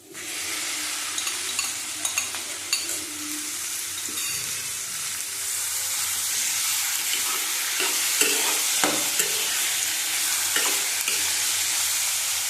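Chicken pieces frying and being stirred in a pan for an egg chicken tadka curry, giving a steady loud sizzle throughout with intermittent scraping and light clinks of the spoon, close with no talk.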